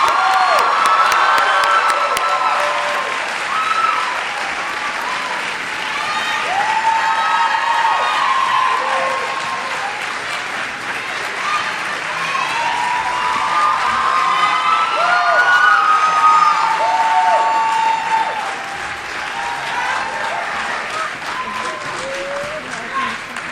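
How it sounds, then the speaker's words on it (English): An audience at a school Black History Month celebration breaks into sustained applause and cheering, a dense steady wash of clapping with scattered whoops and shouts that holds strong before easing slightly near the end. "If you could all please join me in welcoming Miss Khalila Sabri with a big round of applause"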